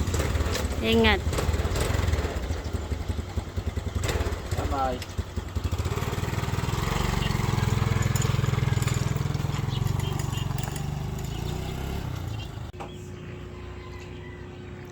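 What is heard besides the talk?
motorcycle engine running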